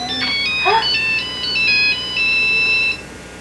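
A cell phone rings with a bright electronic melody of repeated high tones lasting about three seconds, close and fairly loud, with a voice and another voice heard briefly over the start.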